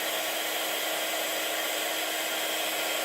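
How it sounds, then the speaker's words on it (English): An electric embossing heat tool warms up with a steady, loud, unbroken blower-like whoosh that holds evenly throughout, close by and with no talking. "I'm just heating up my heat tool."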